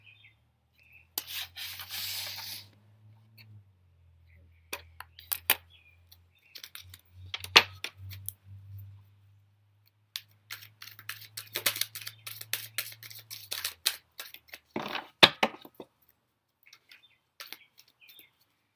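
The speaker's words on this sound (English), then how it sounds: "I'm gonna go ahead and shuffle the cards." Intermittent rubbing and soft slapping of tarot cards being shuffled, in short bursts separated by quiet pauses, close by with no voices.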